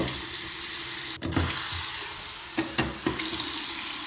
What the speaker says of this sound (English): Back up top, water coming on, both hot and cold.